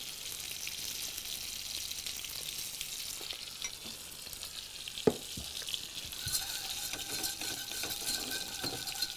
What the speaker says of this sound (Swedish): Som jag smälter ner i kastrullen. Jag gör alltså en liten redning.